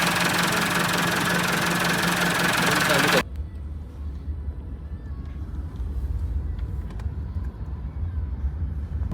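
A tractor engine running, a low steady rumbling idle that continues after a loud burst of other sound ends.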